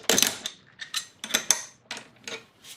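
A 12 mm socket on a ratchet turns a fuel line bolt on a 1999 Acura RL during a fuel filter replacement, giving seven or eight close, crisp ratchet clicks in an uneven rhythm with no talk.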